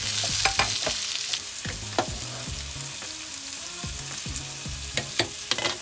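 Onions fry with curry leaves in a pan, a close steady sizzle broken by repeated rhythmic scrapes and taps of a spatula stirring, each stroke loud and distinct.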